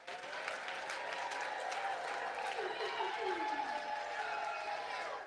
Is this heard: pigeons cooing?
no